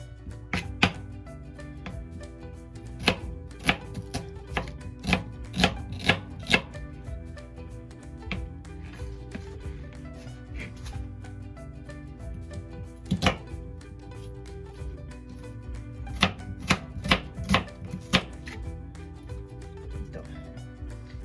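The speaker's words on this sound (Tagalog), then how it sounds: "Itong onion, I will just slice this into strips also." A knife slices an onion into strips on a cutting board, giving a series of sharp, irregular chopping taps in clusters. A person talks quietly throughout.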